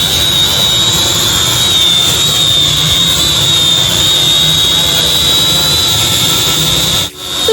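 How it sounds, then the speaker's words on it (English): A Holy Stone HS280 drone hovers in flight, its rotors giving a loud, steady high-pitched whine that holds unbroken before a brief dip at the very end. "And your drone is in the air."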